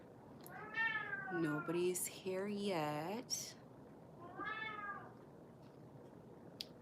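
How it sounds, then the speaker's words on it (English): A pet cat meows loudly and repeatedly close by, several drawn-out rising and falling calls, with a person speaking briefly over them. "By the way, that is my cat,"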